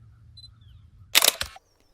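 A rapid burst of mechanical camera shutter clicks, several quick shots in a row, fairly loud and close, following near silence.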